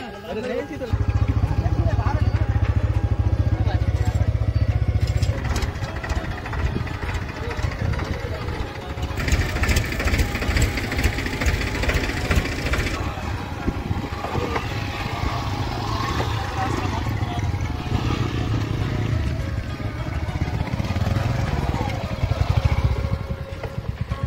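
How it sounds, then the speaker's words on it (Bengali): A boat's engine drones on the Ganges river, a low steady rumble that is strongest at first and then continues under voices talking nearby. "এখন এই যে এই নৌকাটা আসছে"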